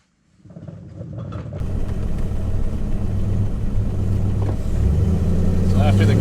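An 1100hp twin-turbo S10 truck engine rumbles loudly and steadily on a test drive after a gear swap. It starts from silence, builds quickly into a constant deep drone and holds strong to the end.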